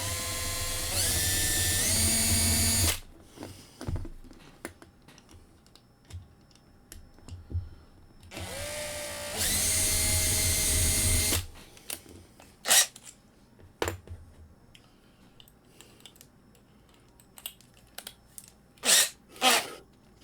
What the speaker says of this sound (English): Yes, I do have oil on the drill bit itself.